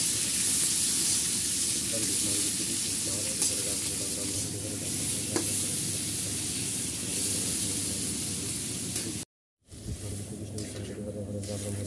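Water goes into a hot cooking pan in a home kitchen, giving a steady loud sizzling hiss with bubbling that runs almost throughout, briefly cutting to silence near the end before resuming.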